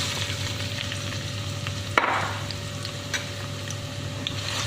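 Chopped onion hits lightly heated cooking oil in a pan, giving a steady close sizzle with a brief louder burst partway through as the pieces are stirred, continuing without any talking.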